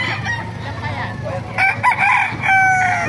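Roosters crow nearby at a poultry market in Bocaue, several overlapping calls rising over a constant low hum and background farmyard noise.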